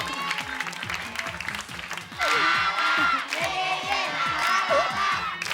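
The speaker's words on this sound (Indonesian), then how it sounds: "ya, tepuk tangan buat Momo." An audience claps steadily, a dense ripple of hands that swells louder halfway through, with scattered cheers and voices mixed in.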